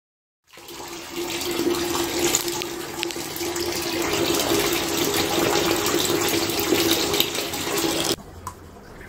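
Water pours steadily into a basin being filled for a pedicure, a continuous close gushing stream lasting several seconds before it stops abruptly.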